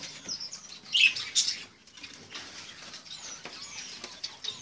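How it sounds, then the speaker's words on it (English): Diamondback doves in a pet shop give soft calls amid flapping wings and scattered high chirps from other birds nearby, with a brief louder flurry early and quieter rustling after. "Diamondback doves."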